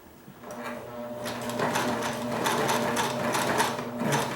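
A sewing machine runs steadily, stitching and back-tacking the seam of a panel pillow, its close, continuous mechanical whir holding through the whole stretch with no talking.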